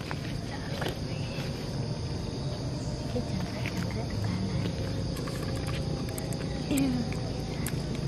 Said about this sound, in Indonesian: Itu kan jangkrik.